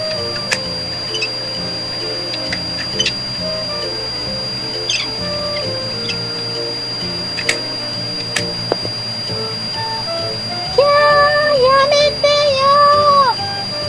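A toy vacuum cleaner runs with a steady low whirring hum and scattered clicks, then a louder, higher whining stretch near the end.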